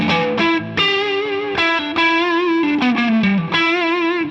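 A Fender Custom Shop electric guitar through an overdrive pedal plays sustained, gritty notes and bends, several phrases with brief gaps, loud and close with no talking.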